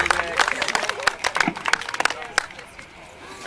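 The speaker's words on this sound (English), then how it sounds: "Let's give a round of applause for him," Festival crowd bursts into applause, dense clapping peaking early then thinning out, with cheers and chatter mixed in.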